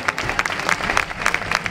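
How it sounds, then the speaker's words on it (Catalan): Festival crowd in Parc Teodor González, Tortosa, claps steadily for giant-carrying groups at a 2021 giants' gathering, a dense outdoor applause with faint voices mixed in, brief and fairly near. "Un aplaudiment ben fort per a totes les colles que avui ens acompanyen"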